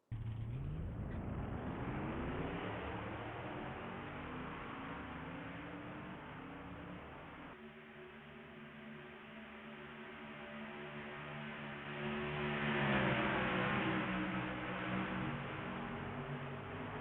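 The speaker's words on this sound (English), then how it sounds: "the trucks are fired off and ready to go here at Indianapolis Motor Speedway" Race truck engines idle and rev together at Indianapolis Motor Speedway before the Brickyard 200, a dense, steady rumble of many motors with shifting pitches that swells louder toward the end.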